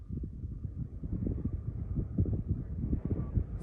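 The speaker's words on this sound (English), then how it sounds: "this wind is not fun" Outdoor wind buffeting a microphone in rough, low rumbling gusts, continuous and close, with no voices.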